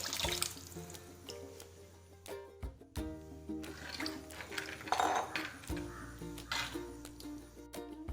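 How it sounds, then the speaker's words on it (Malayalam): Water from lentils boiled with curry leaves splashes and trickles into a pot of rasam in uneven bursts, with clinks of metal utensils between pours. "പരിപ്പും വേപ്പിലയും കൂടി വേവിച്ച ആ വെള്ളം കൂടി ഇതിലേക്ക് ഒഴിച്ചു കൊടുക്കാം"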